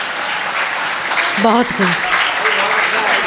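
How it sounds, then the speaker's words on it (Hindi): Audience clapping at a Hindi mushaira poetry recital, a steady broad wash of applause running throughout, with a voice briefly speaking over it in the middle. "अच्छा, बूढ़े लोग ज़्यादा ताली बजा रहे हैं।"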